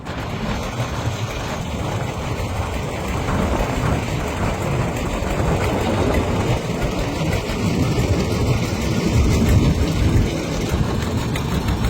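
A trawler boat's engine runs on the Padma river, a steady, dense mechanical drone that holds close and even for the whole stretch with no voices over it.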